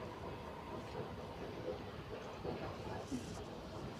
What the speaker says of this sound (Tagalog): Yan ang train natin. Ang bagal.